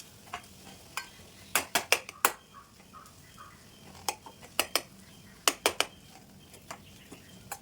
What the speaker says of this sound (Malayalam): ഇനി ഉടച്ചു വെച്ചിരിക്കുന്ന ഉരുളക്കിഴങ്ങ് ഇതിലേക്ക് ചേർത്ത് കൊടുക്കാം. എല്ലാം കൂടി നല്ലതുപോലെ ഒന്ന് ഇളക്കി യോജിപ്പിക്കാം.